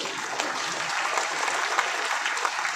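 Dense audience clapping rolls on steadily for a few seconds, a full crowd applauding at close range with no voices over it.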